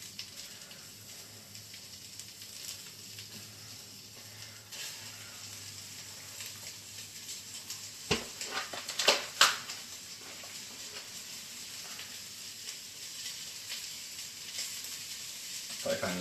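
Italian sweet sausage, pulled from its casings, frying in a pot, giving a soft continuous sizzle and hiss with a cluster of louder crackles and pops partway through, close but fairly quiet.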